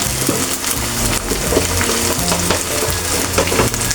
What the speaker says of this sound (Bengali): এখন একে একে আমি একটু ভালো করে ভেজে নেব মশলাগুলো